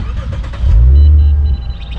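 Lexus IS350 fitted with an Invidia catback exhaust fires up on a warm start: a short surge of deep, loud exhaust rumble close by, settling back to a steady idle after about a second.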